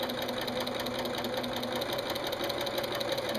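A sewing machine stitches quilt binding diagonally at a 45 degree angle, a steady rapid mechanical whirring and knocking running continuously, close and alone.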